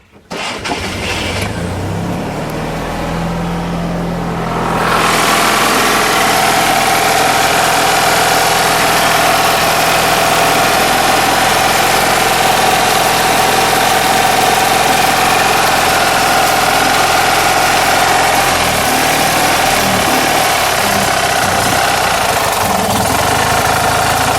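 A 1960 Autobianchi Bianchi's small engine, run on choke, cranks and catches after a few quiet seconds, then settles into a loud, steady idle that carries on alone with no talk.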